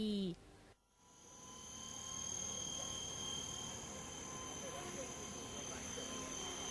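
An autonomous GPS-guided UAV helicopter drone hums with a steady, high-pitched whine over a stadium, a sharp cut near the start and then a constant buzz.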